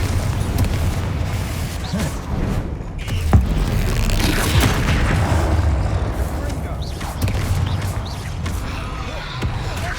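Confringo blasting curse explosions in the game Hogwarts Legacy, a string of heavy booming blasts and crackling bursts over continuous game noise, loud and close.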